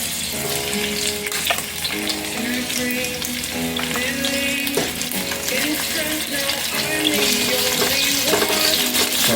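Onions frying in a pot for a vegetable beef curry stew, sizzling loudly and steadily throughout with faint clinks of stirring.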